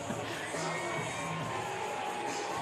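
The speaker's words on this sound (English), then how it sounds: "It is definitely a good crowd on hand here" A large crowd murmurs and cheers steadily in the stands at a Class 4A high school baseball state championship game between Lake Central and Mooresville, a continuous distant wash of voices.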